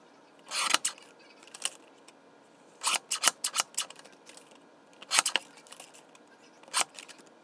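Scissors cutting colored card stock, heard as a series of crisp snips in irregular clusters, close and moderately quiet against a faint background hiss.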